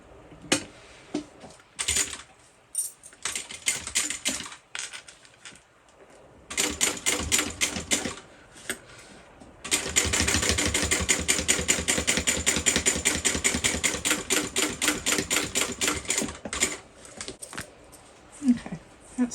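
A home sewing machine stitches a fabric bag in close, loud rapid bursts, short runs at first, then one long steady stretch of fast mechanical clatter, with brief pauses and handling noise between runs.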